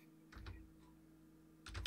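Computer keyboard typing while entering a name in a game engine editor: a few soft clicks early on, then a quick cluster of keystrokes at the end, close and quiet.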